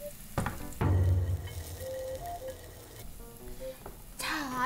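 Oil sizzles in a large pot while soft tofu ramen is being made, with a loud burst of frying followed by a lighter crackle and some stirring clatter. Quiet tones and background noise run through it.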